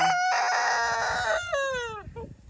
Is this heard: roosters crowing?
yes